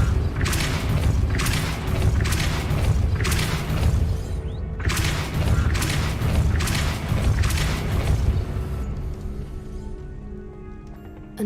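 Repeated Depulso force-push spell effects from the video game Hogwarts Legacy, a run of loud booming whooshes in a steady rhythm, roughly eight bursts in quick succession over low rumbling game ambience, then fading.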